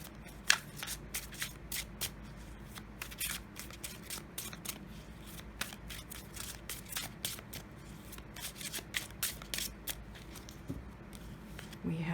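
An oracle card deck being shuffled and drawn by hand, with quick repeated riffling and flicking card sounds close by, spread across the stretch in bursts.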